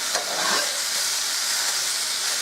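Pan-fried potatoes and smoked sausage hiss and sizzle steadily in a hot pan, with a brief scrape and clatter as they are turned over, close up and without talk.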